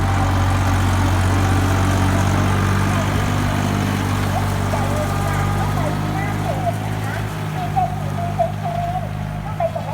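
An Iseki tractor engine runs steadily and loud throughout a test drive, a constant low rumble with faint voices underneath.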